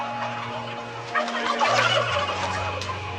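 Turkeys gobble inside a crowded poultry shed packed with thousands of birds, overlapping bursts of gobbling from many birds over a steady low mechanical hum, fairly close and dense, with no talk.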